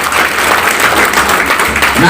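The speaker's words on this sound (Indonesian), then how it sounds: "beri aplaus dulu buat PTP." An audience at a business seminar claps for a few seconds, a dense, steady wash of applause that fills the room from start to finish.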